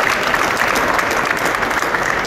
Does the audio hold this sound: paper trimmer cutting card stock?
no